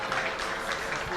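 A large crowd roars at Athlone Town for the women's college football final between IT Carlow and Maynooth University, a steady broad wash of cheering under a commentator's voice.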